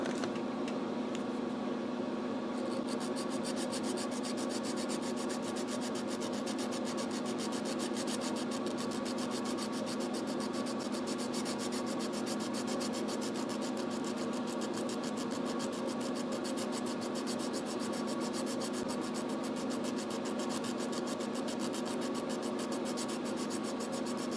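A part for a deep sea lab flying sub model is sanded down by hand, a continuous, even rubbing rasp that holds steady and close for the whole stretch with no voices.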